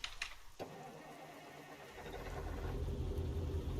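Mack truck diesel engine starting in American Truck Simulator: a brief click, then the starter cranks and the engine catches, settling into a loud, steady low idle rumble.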